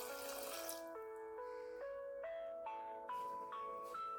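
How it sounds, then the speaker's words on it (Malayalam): Water pours steadily into a pot of drumstick curry with salt, its ringing pitch climbing in steps as the vessel fills over a few seconds, close and clear with no talk. "ഇനി കുറച്ച് വെള്ളം ഒഴിച്ചതൊന്ന് നമുക്ക് വേവിച്ചെടുക്കണം"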